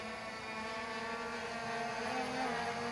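A K90 Max drone speeds past outdoors, its motors giving a steady, high-pitched buzzing whine with layered tones that holds constant and swells slightly toward the end.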